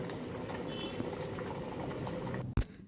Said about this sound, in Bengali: রোজের মতন আজও জল ফুটিয়ে নিচ্ছি